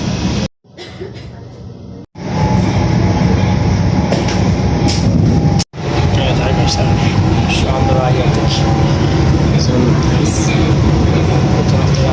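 Train ride in Turkey, a loud continuous rumble and clatter of rolling stock with brief cuts, heavy and close throughout, with no talk.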